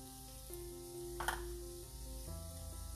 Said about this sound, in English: Saute this a little bit.